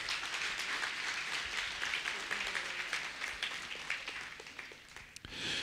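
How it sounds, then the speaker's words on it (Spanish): A church congregation gives a strong round of applause to the Lord, a steady wash of many hands clapping at moderate distance that thins briefly near the end before swelling again. "Puede tomar su lugar dando fuerte aplauso al Señor."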